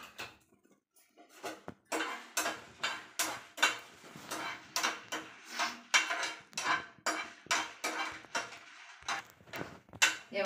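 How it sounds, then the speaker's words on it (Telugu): Dried red chillies being fried and stirred in a pan give a steady run of sharp metallic scrapes and clinks, rhythmic and close, with no talking. "ఇప్పుడు ఎండుమిరపకాయలు వేయించుకోవాలి."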